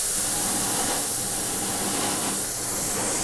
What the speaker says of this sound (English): Then grab your trusty canned air